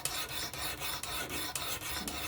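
A Vosteed Acorn 14c knife sharpened on a WSPro guided sharpener gives close, steady raspy strokes of blade on abrasive, repeating about every half second with short gaps between passes.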